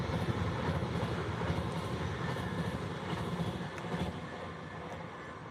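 A TransPennine train runs in the RB Rail video game, a steady rumbling roll of wheels and motors that holds loud and even throughout with no voices.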